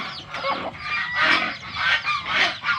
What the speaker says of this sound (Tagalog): manok, bibe, gansa